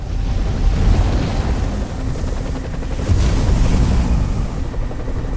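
Heavy ocean waves surge and crash in a continuous roar, mixed with gusting wind, swelling louder at moments, in a film scene of extreme surfing.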